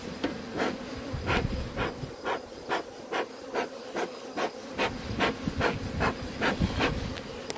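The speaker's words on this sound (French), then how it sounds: "C'est les abeilles vosgiennes, elles ont l'habitude du fumer." Vosges honeybees buzz around an open hive, individual bees droning past the microphone in repeated short swells over a steady, quiet hum of the colony.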